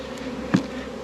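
Bees buzzing around an open hive during a rescue, a steady low insect hum with one brief louder pass close by.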